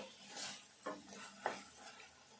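Spinach curry is stirred in a pan with soft scraping strokes, two sharper sweeps standing out, under a faint sizzle and without talk.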